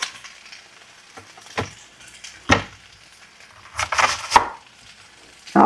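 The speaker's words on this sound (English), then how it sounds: "let's chop us up an onion." An onion being chopped on a cutting board in a home kitchen while pepper steak cooks nearby: a few scattered knife strikes, some sharp and close, separated by pauses, with no talking.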